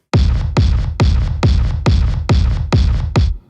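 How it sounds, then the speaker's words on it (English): A crunchy lo-fi acoustic kick drum from the Thump kit in EastWest LO-FI strikes seven times in a steady, evenly spaced rhythm, each hit punchy and booming with a short decaying tail, loud and close. "we're actually replacing that 808 kick with the kick from the Thump kit"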